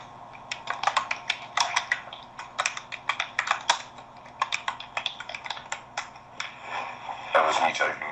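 Quick bursts of clicky keystrokes rattle from a computer keyboard, irregular and close, with brief pauses between runs and a faint radio-like hiss underneath.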